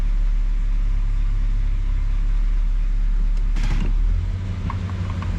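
A warmed-up 1966 Ford Galaxie 500 convertible's engine idles in drive, a steady low rumble held close and even throughout, with a brief creak or clunk near the end.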